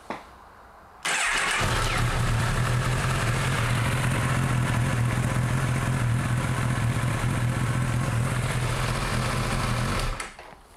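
A 2019 Honda CB1000R Neo Cafe Racer motorcycle, just refilled with fresh oil, cranks and fires after a second of quiet, then idles with a steady, close, even drone for about nine seconds before shutting off.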